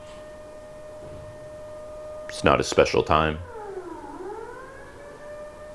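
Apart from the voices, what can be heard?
morning siren sounding outside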